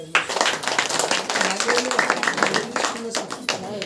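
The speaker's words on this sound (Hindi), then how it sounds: "ताली बजाकर" A church congregation claps hands in rhythm during a Saturday prayer meeting, the sharp claps mixing with voices speaking and singing over them.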